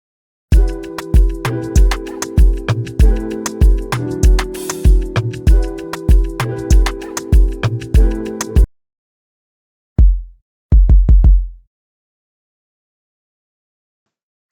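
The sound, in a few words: jazz-inspired Afrobeat beat with chords made in FL Studio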